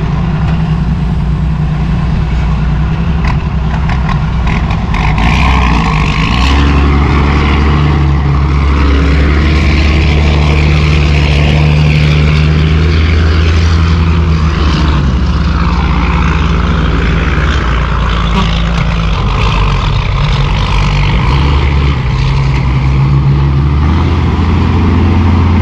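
An Isuzu ten-wheel dump truck with a 270 engine works hard dumping sticky soil, its loud diesel roar steady and close, with the engine note rising and falling throughout and no talking.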